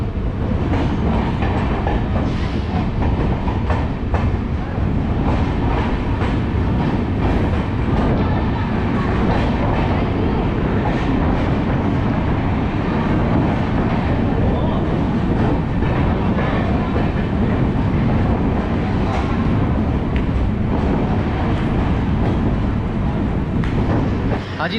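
The Vikramshila Express train rolling into Jamalpur Junction, a loud steady rumble with clattering wheels heard from on board for the whole stretch, with voices talking faintly under it.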